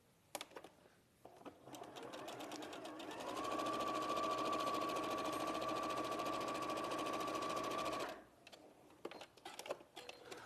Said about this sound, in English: you're just going to sew these right sides together with a 1/4-inch seam